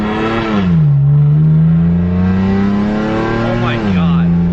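A BMW F82 M4 fitted with an Armytrix valved exhaust drives with a loud, close engine note that climbs as it accelerates, drops on a gear change, then pulls up again before easing off.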